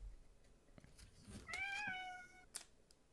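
Cat meowing once in a clear, drawn-out call that rises and falls, close by over quiet indoor background with a few soft knocks and rustles around it.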